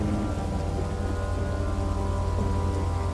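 Heavy cartoon rain pours down steadily and densely, a continuous loud hiss with a low rumbling undertone throughout, no voices present.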